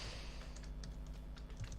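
Rapid, uneven clatter of keys on a computer keyboard during Minecraft PvP play, close by and steady throughout, with no talking.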